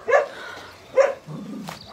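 Dogs bark at an animal shelter, two sharp barks about a second apart with softer yips and whimpers between them, moderately close and without speech.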